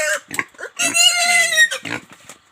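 Pigs on a farm in Assam give a short run of loud, close grunts and a drawn-out squealing oink, with brief pauses between calls.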